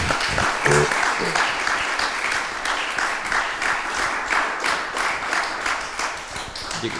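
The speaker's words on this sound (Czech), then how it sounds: "Prosimy jeszcze jedną o potlesk." An audience applauds an author at a literary reading event, a sustained wash of many hands clapping at an even, lively pace from start to finish, with a brief louder burst near the opening.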